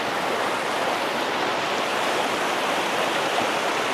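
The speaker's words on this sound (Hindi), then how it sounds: "ये देखिए किस तरीके से पानी का बहाव, इसमें मतलब आप खड़े नहीं हो सकते" A fast-flowing mountain river in Tajikistan rushes loudly and steadily, a dense broadband roar of turbulent water close by, with no voices.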